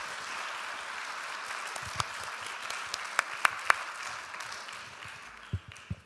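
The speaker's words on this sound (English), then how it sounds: "I think we should give this wonderful speaker a round of applause." A meeting audience gives a speaker a round of applause, a fairly quiet, steady patter of clapping with a few sharper, louder claps standing out and a couple of low thumps near the end.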